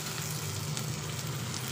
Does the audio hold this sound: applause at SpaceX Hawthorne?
no